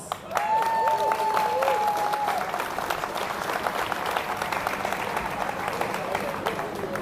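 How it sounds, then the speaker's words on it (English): Sustained crowd applause and clapping at a youth national bouldering championship final, loud and steady for the whole stretch, with a brief whistle-like tone and some voices mixed in near the start. "Big round of applause for Core again, please."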